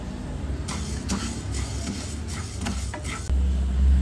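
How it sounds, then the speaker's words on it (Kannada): Coriander seeds dry-roasting in a hot pan for a bitter lime chutney scrape and rustle under a spoon in a series of close stirring strokes, with a heavier clatter near the end. "2 ಚಮಚದಷ್ಟು ಧನಿಯಾ ಕಾಳನ್ನು ಹುರ್ಕೊಳ್ಳೋಣ"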